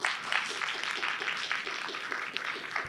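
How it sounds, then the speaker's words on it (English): Audience at a South LA community workshop panel applauds with steady, scattered clapping, a fairly quiet crowd sound that keeps an even rhythm of hand claps throughout. "can we just give a round of applause to our panel?"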